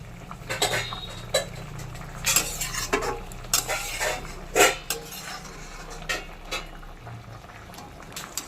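A spoon stirs and scrapes through curry with kasuri methi in a pan, irregular clinks and scrapes over a low simmer, fairly quiet and close.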